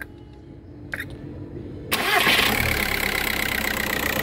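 A car engine cranks briefly and catches after a new flywheel was fitted, then settles into a steady, fairly loud idle with no rattle. Quiet room noise comes before the start.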